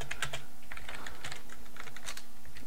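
Code being typed on a computer keyboard for a Python 3 tutorial: quick, close, irregular keystrokes clicking in short flurries over a faint steady hum, with no talking.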